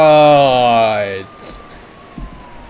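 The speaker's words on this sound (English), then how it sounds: "Look at all of these police cars." Police car sirens in the game Turbo Dismount, a loud, harmonically rich wail that holds for about a second and then cuts off, leaving a faint, thin trailing tone and some scattered noise.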